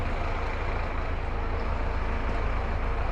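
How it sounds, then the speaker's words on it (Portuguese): A Scania front-engine intercity coach idles loud and close at the Goiânia bus station, its steady diesel rumble filling the whole stretch without any talk. "no motor dianteiro Scania, dando embarque aqui na rodoviária de Goiânia"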